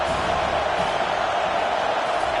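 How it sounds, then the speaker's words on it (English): Stadium crowd roaring steadily at a college football video game as the defense faces third down, a dense, sustained wall of cheering with no breaks or distinct voices. "Decibels rising as the crowd gets behind this defense on 3rd down"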